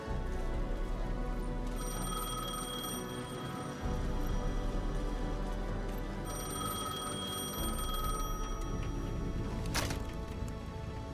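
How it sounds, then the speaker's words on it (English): A payphone rings in repeated bursts over a steady low hum and background ambience, fairly close and clear, with no one speaking. "The payphone at the edge of the plaza was ringing again."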